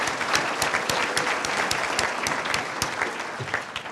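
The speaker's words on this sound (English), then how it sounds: "Give them another round of applause" Audience applause at a retirement party, a dense steady wash of many hands clapping loudly throughout with no talk over it.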